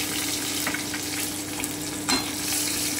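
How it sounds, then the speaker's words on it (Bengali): Crushed garlic and green chili frying in a pan give a steady, close sizzle, broken by a few stirring scrapes and one louder clatter near the end. "হালকা একটু ভেজে নিচ্ছি"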